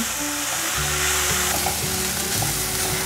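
Filling with carrot being stir-fried quickly with rose salt, white pepper and soy sauce, a loud continuous sizzle with scraping spatula strokes, close and without talk.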